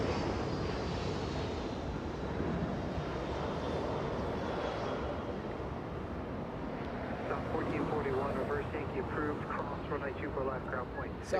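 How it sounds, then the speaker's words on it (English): Southwest Boeing 737 departing runway 24 right at Los Angeles International Airport, a loud continuous jet engine roar with a faint high whine, building toward the end amid wind buffeting the microphone. "Southwest 2087 flying to Sacramento, California. That one, a 737. A departure on 24 right."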